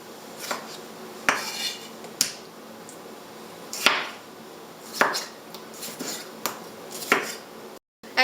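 A knife chops tomatoes on a board for a traditional Chinese tomato and egg dish, with sharp, irregular chopping knocks spaced about a second apart, close and clear with no talking.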